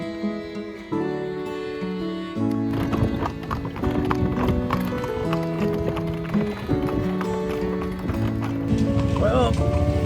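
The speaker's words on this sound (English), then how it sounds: "it looks like our time in the horse-drawn carriage is coming to an end" A horse's hooves clip-clop in a steady rhythm as it pulls a carriage through a town in Merida, Mexico. The hoofbeats sit under music with a clear melody, and brief voices are heard.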